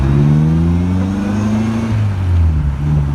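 A 1956 Austin Healey BN2 engine revs hard under acceleration in normal mode, its pitch climbing steadily, then dropping briefly at a gear change before rising again. Loud and close.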